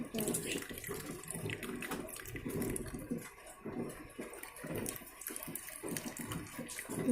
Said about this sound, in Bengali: আস্তে আস্তে জলগুলো পড়ছে